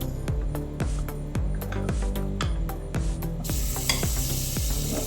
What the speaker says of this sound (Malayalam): നെയ്യ് എടുത്ത് വെച്ചിരിക്കുന്ന ചൂടുവെള്ളത്തിൽ കഴുകി എടുത്ത് വെച്ചിരിക്കുന്ന ബട്ടർ ഇതിലേക്ക് ചേർക്കാം.